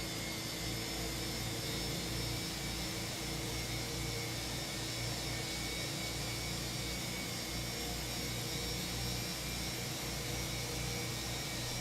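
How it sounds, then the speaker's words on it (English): Fenix A320 Block 2 jet engines run in a flight simulator, a steady low droning hum with a faint whine, constant and quiet throughout with no talking. "I love how this airplane sounds"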